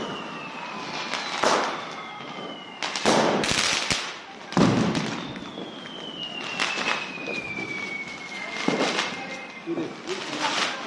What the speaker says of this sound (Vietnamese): Mấy pháo to đấy đẹp đẹp đấy, như pháo của Trung Quốc ấy.